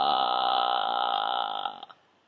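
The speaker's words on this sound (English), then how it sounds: "just do simple vocal fry in between vocalizations or before you sing a song" A low, creaky vocal fry rattle held steadily for about two seconds, then trailing off with a couple of small clicks into quiet.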